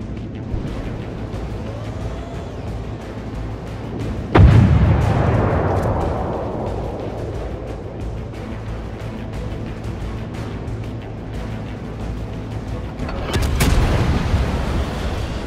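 Heavy artillery fire in a video game, one loud booming blast with a long rumbling decay, then a second big blast near the end over a steady low mechanical drone.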